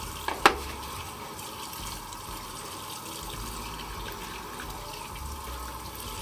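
Steady water running from a tap during a rinse after a shave with a Merkur Futur razor, a continuous close splashing flow after a couple of brief knocks at the start.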